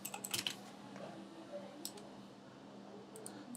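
A short burst of quiet typing on a computer keyboard, a quick cluster of key clicks near the start, then a few scattered taps against faint background hum.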